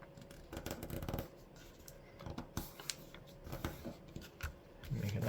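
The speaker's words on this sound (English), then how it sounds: "We're then going to take this tip and fold it right down to here, right to the edges we just folded down." Paper being folded and creased into a paper airplane, with crisp rustles, crinkles and sharp creasing swipes in irregular bursts, close and fairly quiet.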